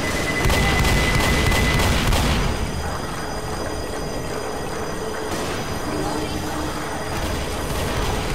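A grenade explosion in Left 4 Dead, a heavy boom inside dense, continuous game noise and rumble, with a second burst later and a voice in the mix.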